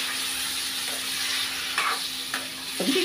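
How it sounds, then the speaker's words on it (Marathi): Fish pieces coated with vinegar and turmeric fry in hot oil, a steady broad sizzle running throughout with a few brief clinks and scrapes near the end, no voices. "अगदी थोडेसे फ्राय करून घ्यायचे पहिले."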